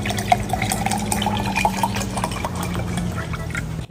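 Water poured into a glass, a steady running splash with small bubbling and dripping flickers, fairly close and continuous over a low background hum.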